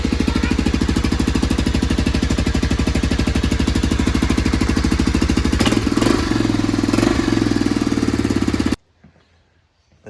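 A Honda ATC250SX three-wheeler engine running after restoration with the exhaust refitted, a close, loud, rapid steady putter that holds for about nine seconds, wavers briefly near the end, then cuts off into quiet.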